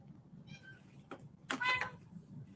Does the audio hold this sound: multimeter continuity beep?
no